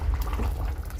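Chicken semi gravy simmers in a pot, thinned with extra water and being boiled down to thicken. It gives a steady, close, dense low bubbling that continues unbroken, with no voices.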